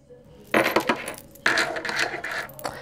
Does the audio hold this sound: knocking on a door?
no